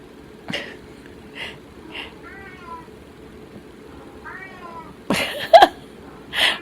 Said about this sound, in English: He's meowing and looking at one of the dogs.